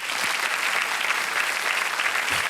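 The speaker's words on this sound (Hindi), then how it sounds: "एक बार फिर तालियां बज जाएं इनके लिए" A studio audience on the game show Kaun Banega Crorepati claps steadily and loudly throughout, a dense, even wash of applause with no voices standing out.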